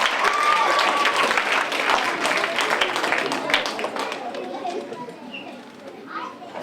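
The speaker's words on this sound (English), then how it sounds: "Give him a big round of applause, ladies and gentlemen" A crowd at a creative arts evening claps and cheers steadily in loud, sustained applause that slowly tapers, with voices mixed in.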